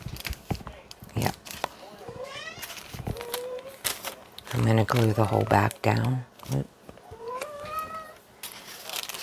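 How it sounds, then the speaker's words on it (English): A pet cat meows for attention in a few rising, drawn-out cries near the microphone, interleaved with someone talking over light crafting handling noises. "My kitty's meowing for attention."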